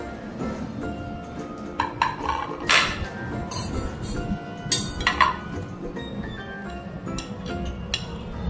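Metal clinks and scrapes as spiced raw mango is spooned into a metal pot, irregular clatters close by against a low background hum.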